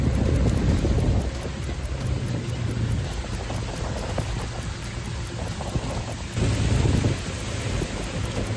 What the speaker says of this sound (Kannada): ಸಿಲಿಕಾನ್ ಸಿಟಿ ಬೆಂಗಳೂರಲ್ಲಿ ಮಳೆಯಾಗಿದೆ.